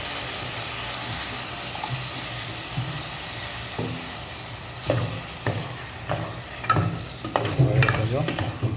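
Drumstick thokku being stirred in hot oil after tamarind water is poured in, giving a steady low sizzle with scraping stir strokes that grow louder and busier toward the end, no voices.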